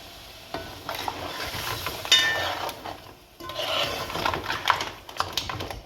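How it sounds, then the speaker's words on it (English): Lobster curry cooking in a pot with coconut milk, stirred by hand: close scraping and rubbing strokes over a soft bubbling simmer, in uneven bursts with a brief lull midway, no talk. "The lobster has been cooking for around 5 minutes or so. I'm going to add the coconut milk now, 1 tin of coconut milk."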